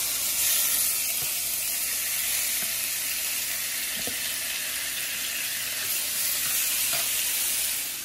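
Shrimp sizzle loudly in hot oil in a pan, a dense, even hiss close to the listener, broken by a few faint clicks and taps of tongs, with no voices.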